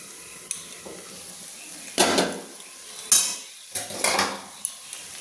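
Banana flower curry (mochar ghonto) being stir-fried and cooked down in a pan, with spatula scrapes and clinks in a few distinct bursts over a low sizzle, near and fairly loud, with no talking.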